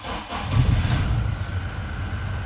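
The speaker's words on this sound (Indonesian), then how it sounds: "Nah ini mesin sudah hidup ya." A Toyota Innova Reborn engine idling at steady low rumble, continuous and fairly near, with no talk over it.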